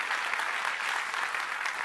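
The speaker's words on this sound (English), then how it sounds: "That's not supposed to be the applause line, but I'll take it." An audience at a technical conference session applauds, a dense, even wash of clapping from many hands that holds steady throughout.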